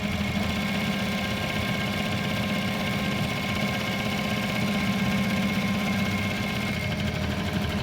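Steady sewing machine whirring while stitching the edge of a front strip, a continuous close mechanical hum with even buzzing throughout and no pauses or talking.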